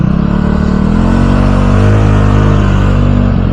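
A Honda Giorno 125 scooter fitted with a 160cc setup accelerates, its engine drone loud and close, pitch climbing steadily and holding high for a few seconds with no talk.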